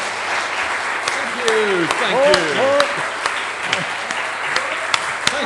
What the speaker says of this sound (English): give a very round of applause